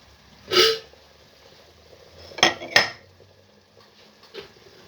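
Glass jars and metal lids clink and clatter while home-canning eggplant caviar: a sharp knock near the start, then a pair of close clanks a couple of seconds later and a faint tap at the end, set against a quiet kitchen.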